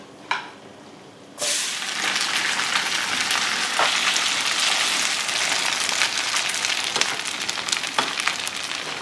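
Vermicelli and vegetable pancake batter hitting hot coconut oil in a pan, bursting into a loud, steady crackling sizzle that continues close up after a brief quieter moment.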